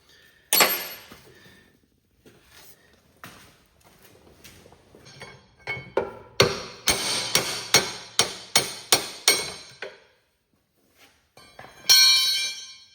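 Hammer driving a pin out of the dual hydraulic valve on a Cub Cadet 782-784 garden tractor, sharp metallic strikes close up, a steady run of about ten blows in quick rhythm after a few scattered taps.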